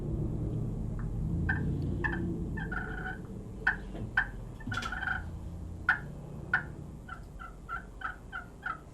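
A slate-bottomed, glass-topped turkey call played softly for early-morning use, giving a string of short, quiet yelps and clucks in a loose rhythm, close by over a low background rumble.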